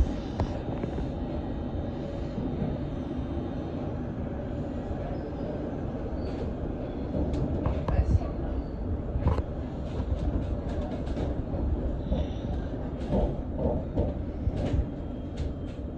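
A London Underground Circle Line train runs steadily with a continuous low rumble and rattling, broken by occasional clanks and squeals, with no talk.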